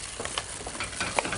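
Vodka prawns cooking in a pan with fish stock and cream, giving a steady soft sizzle and bubbling with a few stirring scrapes, close and fairly quiet.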